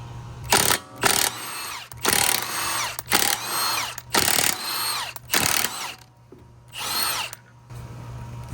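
A power tool removes a wheel from a BMW 228i in a loud, close series of about seven whirring bursts separated by short pauses.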